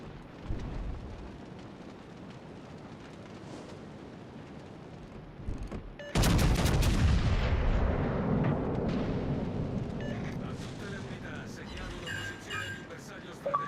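Heavy battleship guns from the Nelson fire a broadside in World of Warships Legends, a sudden loud booming blast midway that rolls into a long rumbling decay, with a quieter distant thud earlier and crackling effects afterward.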